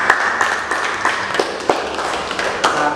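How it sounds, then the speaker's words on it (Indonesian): Students in an automotive engineering class give a participant a round of applause, a thin scattering of separate hand claps at irregular intervals in a room. "tepuk tangan untuk Bapak"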